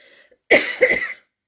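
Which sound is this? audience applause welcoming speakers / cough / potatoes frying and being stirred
cough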